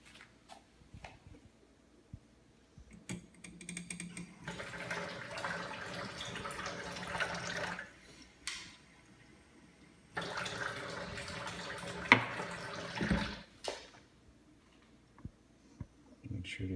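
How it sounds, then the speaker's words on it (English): Water is poured into a container holding apples, giving soft, fairly quiet splashing and trickling in two longer stretches with short gaps and small knocks between them. "I may need to put some more water."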